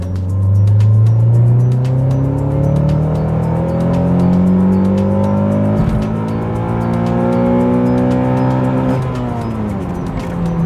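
A CL9 Honda Accord pulls hard at full throttle, its engine note rising steadily through the revs, dropping briefly at a gear change, then climbing again. The sound is loud and continuous, with no talking.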